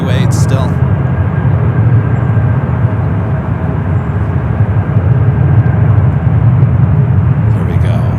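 A CRJ regional jet arriving at San Francisco airport gives a steady, loud engine roar that holds throughout, with brief talking at the start and end.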